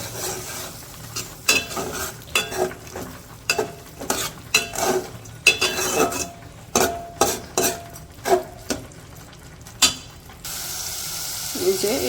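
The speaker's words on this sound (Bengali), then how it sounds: "এই যে এ পাশে হচ্ছে শুটকিগুলো ভালো করে কষে নিচ্ছি মশলার সাথে" Dried shrimp fried with spices is stirred in a pan, a spoon scraping and clattering against the metal in repeated strokes over a steady low sizzle.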